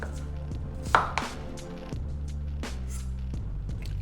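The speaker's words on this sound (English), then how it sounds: "Chop up an onion." A knife chops an onion on a board, a few sharp, close knocks spaced irregularly over a low background hum in a kitchen.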